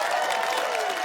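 A studio audience at a comedy panel show claps and cheers briefly, a dense wash of applause.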